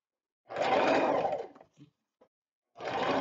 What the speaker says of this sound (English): this is a whole other thing, sewing on the machine